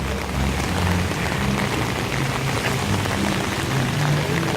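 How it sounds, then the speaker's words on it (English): Heavy rain pours down outdoors in a dense, steady hiss that stays constant and fairly loud throughout, with no voices. "It's raining too hard"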